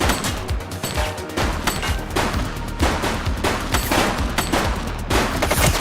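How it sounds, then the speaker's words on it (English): Rapid bursts of gunfire crack in a dense, continuous barrage with overlapping loud shots throughout, like a police shootout. "He's shooting!"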